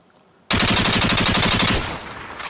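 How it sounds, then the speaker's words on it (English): A rapid burst of gunfire from a sound effect starts abruptly after a short silence and rattles for about a second and a half before fading into a noisy tail. "Oh, the gunshots."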